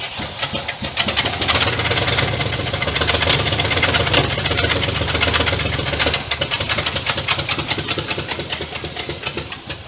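An abandoned 1967 Cadillac DeVille V8 cranks and catches after 40 years without running, then runs roughly and loudly close by with uneven, knocking pulses before faltering.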